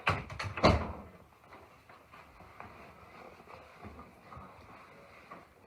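A few doors thump shut in quick succession at the start, followed by quiet low background noise.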